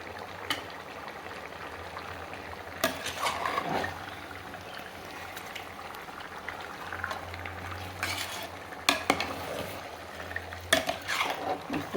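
Chicken coated with salt, chili powder and masala being stirred in a pot, with intermittent scraping strokes of a utensil over a soft, continuous sizzle, no talking.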